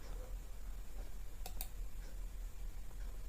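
A computer mouse clicks twice in quick succession during Photoshop work: two sharp, faint, close taps about a tenth of a second apart over a low steady hum.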